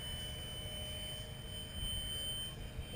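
A radio-controlled model jet plane gives off a steady, loud turbine whine with a high piercing tone over rumbling wind noise, continuous throughout and heard outdoors in gusty conditions.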